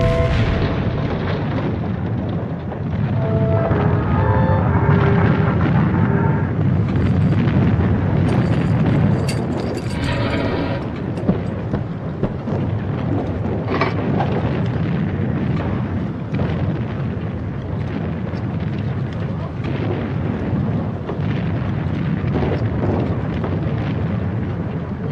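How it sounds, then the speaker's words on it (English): Artillery shells during wartime fighting, in a First World War battle, roar in a dense, continuous barrage of booms and blasts that swells loudly and keeps going without a break, with no voices. "It's our own guns shooting at us."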